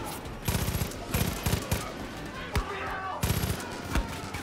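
Automatic rifle fire in Far Cry 5, a few short bursts of quick shots separated by pauses and single louder hits, over a busy rumbling background with a voice heard now and then.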